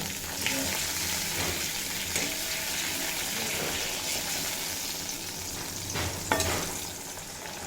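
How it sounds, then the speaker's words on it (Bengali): A splash of water meets ginger and green chilli frying in oil for a bitter gourd dish, giving a steady close hissing sizzle with a few scraping stirs and faint pops, no voices. "এবার এড করে দেব সামান্য জল"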